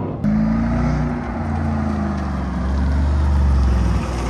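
A Mercedes-Benz SLR McLaren accelerates from inside the cabin, its deep engine note climbing steadily and rising in pitch through a sustained, loud pull with no talking.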